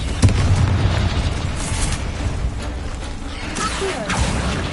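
A Confringo blasting spell cast in Hogwarts Legacy, a deep booming explosion with crackling fiery debris amid continuous loud combat effects.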